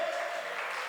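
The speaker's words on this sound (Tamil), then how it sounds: "கைத்தட்டி ஜெபம் பண்ணுங்க." A church congregation at a fasting prayer service claps together in a brief, steady wash of hand claps, heard without speech.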